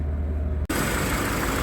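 A Volvo 740 engine idles at a fast, raised speed after a new cambelt and ignition module, a steady close mechanical hum that drops out for an instant and then carries on.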